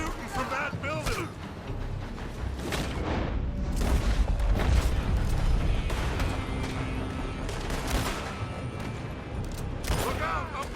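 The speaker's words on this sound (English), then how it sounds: "They're shooting from that building!" Repeated gunfire and booming blasts in Red Dead Redemption 2 come from a building during a shootout, irregular shots and explosions spread across the clip beneath excited talking and game noise.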